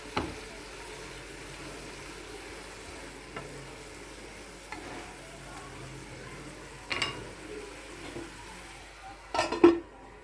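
A spoon stirring Ceylon spinach chutney in a pan, a faint, low sizzle broken by a few scattered scrapes and clinks, louder near the end, with no talking.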